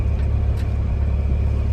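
Steady low rumble of wind buffeting a sailboat in Puget Sound's Blind Bay, blowing straight onto the bow, with a continuous dense roar and no talking.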